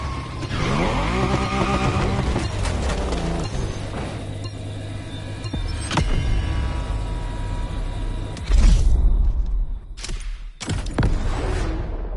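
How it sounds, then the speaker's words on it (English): A car drifting in The Crew Motorfest, its engine revving hard with long tire squeals, loud and continuous, broken near the end by sharp crashes and brief cutouts. "Good luck on this last track drifting event"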